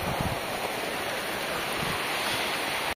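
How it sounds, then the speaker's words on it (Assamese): A hailstorm with heavy rain lashes down outdoors near a garden in Assam, a dense, loud, continuous roar of falling ice and water with wind buffeting the microphone and no pauses. "অৱস্থা নাই শিলগুটি বৰষুণ দিছে"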